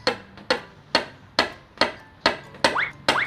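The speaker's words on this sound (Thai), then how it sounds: "ค้อนค่อยๆตอกลงไป ตอกเบา ๆ" Eight sharp hammer taps at an even, unhurried pace, each a crisp knock with a short ringing decay, close by, as a hammer punches a drainage hole through a ceramic cactus pot.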